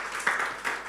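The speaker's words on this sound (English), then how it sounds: "Please clap for them." A short burst of audience applause at a parenting masterclass, dense hand clapping from a room of people lasting under a second.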